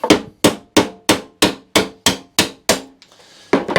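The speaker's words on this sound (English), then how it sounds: "Let me grab my hammer and my punch again" Nine sharp metallic hammer blows strike a punch on a lawnmower at a steady rhythm, each ringing briefly before the next. A short pause comes, then one more hit.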